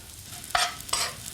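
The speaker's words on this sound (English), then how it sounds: "Get that lovely sizzle going of the crumbs." Breadcrumbs with bacon and parsley sizzle in a hot pan, a faint steady hiss with two louder bursts as the mixture is stirred.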